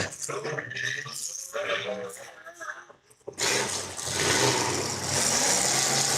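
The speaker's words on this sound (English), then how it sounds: "2 cars revving against each other towards the bottom right of your screen" Demolition derby cars rev their engines against each other at a Mobridge derby, a loud sustained roar that swells and holds after a stretch of talk from an announcer.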